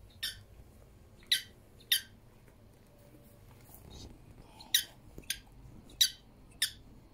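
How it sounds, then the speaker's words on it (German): A small squeaky mini toy ball played with by a rabbit gives short, sharp squeaks: a pair near the start, then a quiet stretch, then a quicker cluster of squeaks toward the end over a faint indoor background. "Der quietscht mit seinem Ball."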